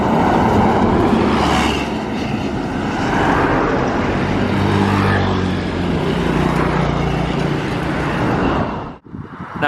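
A bus pulling out of an Indonesian bus terminal, a Yuanda Prima coach bound for Palembang, gives a loud, steady engine roar and rumble that holds for about nine seconds before cutting off abruptly near the end.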